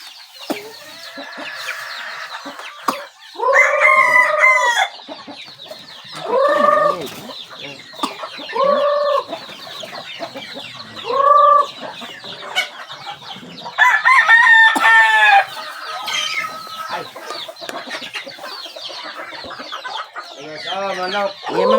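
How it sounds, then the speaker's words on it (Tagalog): Chickens clucking and a rooster crowing in several loud bursts, short calls spaced a few seconds apart over a quiet background with occasional voices in between. "Manok."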